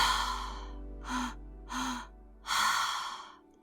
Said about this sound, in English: A double inhale and a single exhale, and all the breathing is through the mouth.